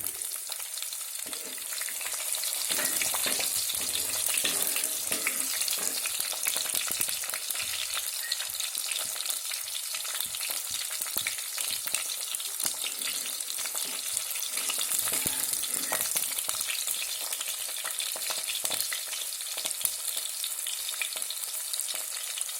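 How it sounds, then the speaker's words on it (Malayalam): Garlic and green chillies fry with fenugreek seeds in hot oil for a fish curry, giving a continuous close crackle and sizzle with occasional stirring scrapes and no voices. "ഇനി അടുത്തതായി നമുക്ക് വെളുത്തുള്ളിയും പച്ചമുളകും ഇട്ട് കൊടുക്കാം."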